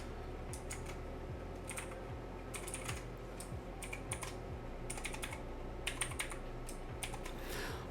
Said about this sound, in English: you can go ahead and type in whatever type of username or password you want